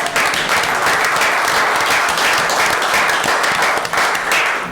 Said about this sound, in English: I think the Huskies need a round of applause,